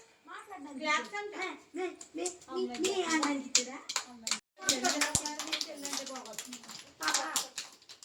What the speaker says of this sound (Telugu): క్లాప్స్ కొట్టండి సూర్యవంశీకి